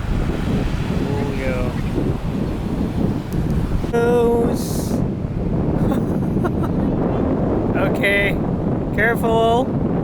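Wind buffets the microphone at a surf beach with a steady roaring rumble and breaking waves beneath, while voices call out over it in short bursts.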